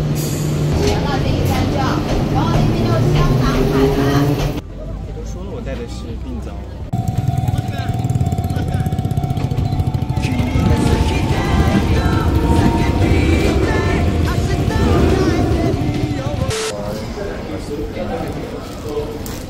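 A Shonan Monorail train carries riders through Kamakura, giving a steady, loud rolling rumble with a brief quieter dip partway, while people talk throughout.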